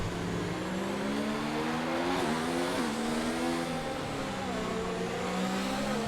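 Formula 1 car engine in an eSports racing game, running with a fault and sounding slow and uneven: a steady, droning engine tone that wavers and dips in pitch, with no talk over it.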